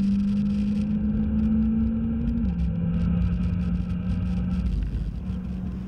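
Steady, loud engine drone from a hot hatch, a Honda Type R, SEAT Leon Cupra ST 290 or Peugeot 308 GTi, lapping a race circuit, with a sustained note that holds, then drops in pitch partway through.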